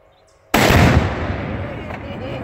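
Exploding target powder detonates outdoors among leaves: one sudden, loud broadband blast that rings out and decays slowly over about two seconds, with no talk during it.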